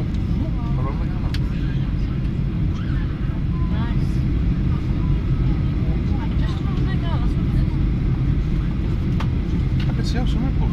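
A Ryanair Boeing 737-800 landing at Tenerife gives a loud, steady roar of engines and rushing air heard from inside the cabin, continuous throughout with faint voices underneath.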